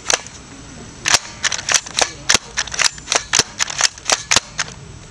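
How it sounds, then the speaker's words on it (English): A Nerf Maverick toy blaster fires foam darts in sharp, snappy cracks, a quick irregular series of close, loud pops with no talking. "now I'm going to be firing 4 shots from the Maverick"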